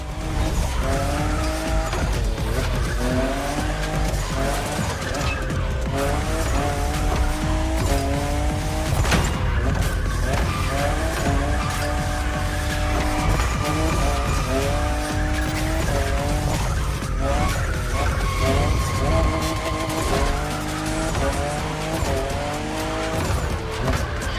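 A fifth-generation Toyota Supra drifts along a mountain touge course in The Crew Motorfest racing game. The engine howls continuously with rising and falling pitch, and tires screech loudly throughout. No one speaks.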